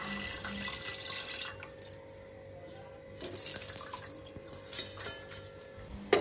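Tap water runs steadily while toor dal is rinsed clean before going into a pressure cooker, the flow rising and falling with light splashes and drips in a sink.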